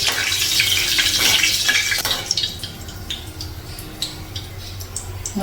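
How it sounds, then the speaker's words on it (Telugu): Fenugreek seeds sizzling and popping in hot oil in a pan for a fish curry, a steady crackling hiss with scattered small pops that grows quieter, no talking. "లైట్గా మెంతులు వేగాయండి"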